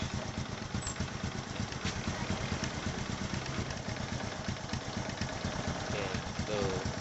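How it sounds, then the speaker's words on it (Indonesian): A Honda Supra X 125 motorcycle engine idles steadily nearby, its rapid even putter continuing without a break, with no one talking over it; the bike often stalls. "Ini motor sudah keadaan hidup"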